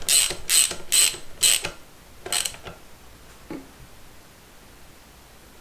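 Ratchet wrench tightening a bolt with an aluminum washer on a 1974 Honda MT250 Elsinore motorcycle: four quick bursts of ratcheting clicks, then a short final pull, close and clear in a quiet workshop.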